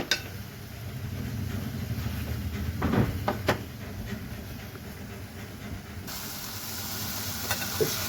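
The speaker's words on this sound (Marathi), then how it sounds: "टोमॅटोचं पाणी सुटेपर्यंत त्याला हलवत राहायचं आहे।" Tomato and onion stirred and sautéed in a pan for chole masala, a steady low sizzle running throughout with a few scraping stirs of the spoon near the middle, no voices.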